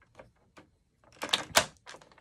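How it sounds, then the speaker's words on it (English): Paper is trimmed for a Stampin' Up card with a paper trimmer: a few light ticks, then a quick, louder scraping slide of the blade close by. "Actually going to trim off a little bit from the bottom now."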